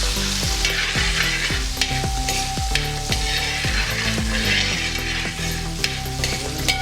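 Half a kilo of small onions frying in hot coconut oil in an uruli, a loud steady sizzle with repeated scraping stirs over the crackle.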